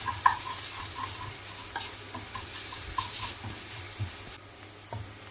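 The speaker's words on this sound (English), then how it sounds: "give it a nice mix, ensure that it's well combined once again" Cumin and garam masala are stirred through a hot pan, a spatula scraping in short repeated strokes over a soft, steady sizzle, close by and with no voices.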